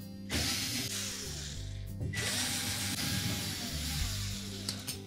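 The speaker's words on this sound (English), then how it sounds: "we'll remove three screws that secure the mounting bracket to the back wall" A power drill runs steadily while backing out the screws of a mounting bracket inside a Samsung range during a fan motor replacement, giving a close, continuous whir with brief ratcheting changes in pitch and no talk.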